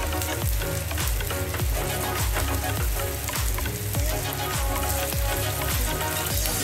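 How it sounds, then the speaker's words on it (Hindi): Potato patties shallow fry in a pan over a medium flame, an intense close sizzle with dense crackling and repeated sharp spatter pops, with no talk. "देखिए इसे इसी तरह हम शैलो फ्राई करेंगे"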